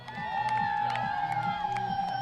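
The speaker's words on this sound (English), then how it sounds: "The energy in the small but noisy crowd was high." A small but noisy crowd cheers at a girls high school soccer game on a sunny afternoon, steady shouting and whoops with a high whistle-like tone running through, close and fairly loud throughout.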